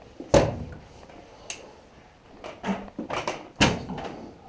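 Humvee front doors opening, heard as several sharp metallic clunks and latch thumps spaced across a few seconds, fairly close and loud over a quiet background.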